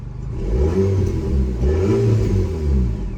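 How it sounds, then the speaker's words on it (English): A warmed-up Alpine A110S engine revs up loudly and holds a deep, throaty roar with rising and falling pitch, close by and continuous, with no talking. "car is warm, so nobody give me grief about revving it because it's not cold"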